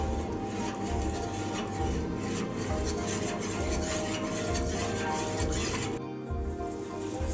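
A spoon stirs crushed ingredients for Pesaha appam palkurukku in a bowl, giving steady rhythmic scraping and rubbing strokes, close and continuous, with a brief pause near the end.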